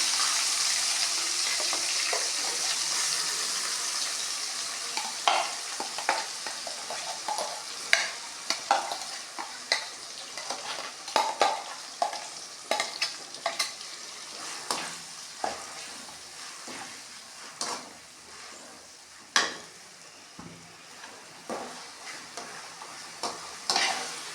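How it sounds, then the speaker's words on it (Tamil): A dried fish thokku masala sautés in hot oil with a constant soft sizzle, while a spoon scrapes and stirs the pan in frequent sharp strokes up close. "இது நல்லா எண்ணெயில் வதங்கவும்"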